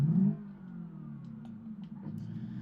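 A car engine in BeamNG.drive revs briefly at the start, then settles to a steady mid-pitched hum, close and alone without talk.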